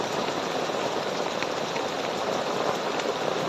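Heavy rain pouring down in a steady, dense hiss, close and loud without a break, with no voices over it.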